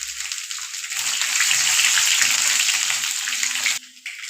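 Mushrooms sautéing in a pan for a mushroom curry give a steady, close sizzle and hiss throughout, with a faint low clatter underneath before the frying dies down at the end.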